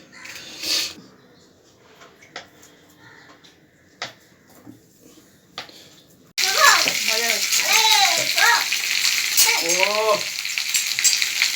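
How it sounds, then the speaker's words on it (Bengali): Chopped capsicum sizzles loudly in a hot pan for chilli paneer, beginning suddenly after a quiet stretch of faint clicks and kitchen noise, with a person talking over the steady hiss. "এটা ভাজা হচ্ছে, ক্যাপসিকামটা হালকা করে ভেজে নিতে হবে"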